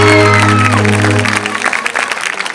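A stage drama audience breaks into applause as a sustained musical tone fades out, leaving a loud spread of clapping and crowd noise in the final second and a half.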